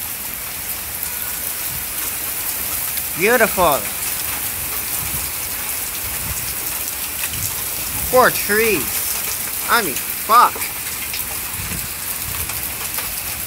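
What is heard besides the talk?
heavy rain falling during a thunderstorm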